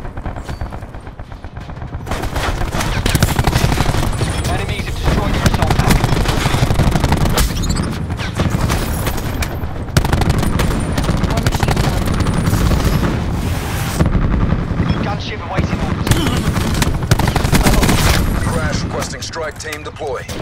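Heavy, sustained gunfire from Call of Duty: Black Ops 4 on the Slums map, with dense rapid bursts and booms continuing loudly through the whole stretch, while game voice lines sound over the shooting.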